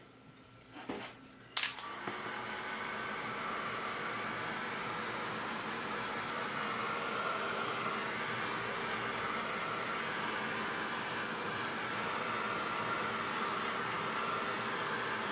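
A heat tool or dryer drying a stamped card panel switches on after a couple of clicks and blows a steady, even whooshing hiss that runs unbroken to the end.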